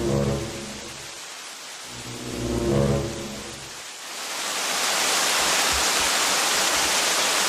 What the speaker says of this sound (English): It had been raining all night, and by the time morning came, it was still pouring down.